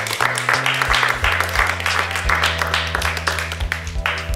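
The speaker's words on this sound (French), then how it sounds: "On l'applaudit. On peut l'applaudir." An audience claps together in applause, a dense, steady patter of many hands filling the space from start to finish, with a few sharper individual claps standing out.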